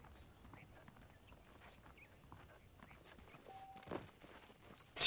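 Horse hooves clip-clop at a steady walking rhythm in the Red Dead Redemption video game, moderately faint under ambient game sound, with a brief louder knock near the end.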